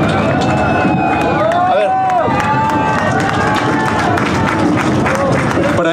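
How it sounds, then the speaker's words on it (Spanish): An audience at the 2024 Mixquiahuala carnival in Hidalgo claps and cheers loudly and close by, a steady mass of applause mixed with voices and music, with people talking through it. "¿Cómo les vamos a aplaudir? Por favor, bien fuerte."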